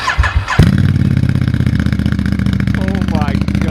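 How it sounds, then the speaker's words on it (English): A Ducati Diavel 1260 fitted with a Termignoni exhaust, baffles in, cranks and fires up after a short pause, then settles into a loud, steady, throbbing idle close by. "we're gonna start it up with the baffles in"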